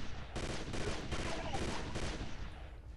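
Rapid bursts of gunfire from the PC shooter game Chaser crack out in a quick irregular volley, several sharp shots overlapping into a dense stutter before fading toward the end.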